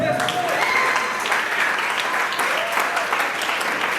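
Audience clapping at a youth presentation, a steady continuous patter of many hands filling the room, with a voice speaking faintly underneath.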